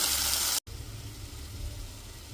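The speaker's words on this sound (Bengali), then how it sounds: "আর দেখো আমি জল দিয়েই পুরোটা সেদ্ধ করছি" Chilies simmer in water for Bhutanese ema datshi with a steady, hissing bubble. The sound breaks off for a split second, then resumes as a quieter, continuous boil.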